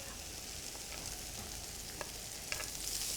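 Peppers stir-fry in a nonstick skillet with a continuous close sizzle, broken by a few light clicks and scrapes from a wooden spoon, and the hiss swells slightly at the end.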